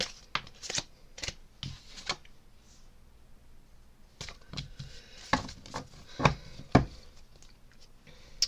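A tarot card is flipped over and set down on a table, giving a series of sharp papery snaps and taps in two clusters with a quiet gap between them, close and distinct with no talking.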